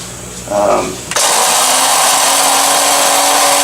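A small KitchenAid blade grinder starts up after a brief bit of talk and whirs loudly and steadily as it grinds coffee beans, a bright sustained motor roar close to the microphone.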